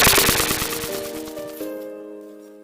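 A firecracker goes off at New Year: a quick burst of sharp cracks that fades into a ringing, metallic tail over a couple of seconds, fairly loud at the start, with no voices.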